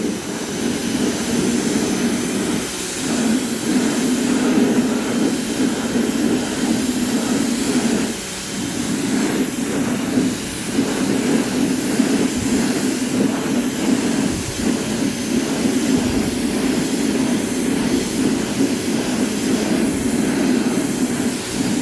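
Water spray rinses the original painted Bundt wheels of a 1985 Mercedes 300TD wagon, a loud, steady hiss of hose spray running continuously with brief dips.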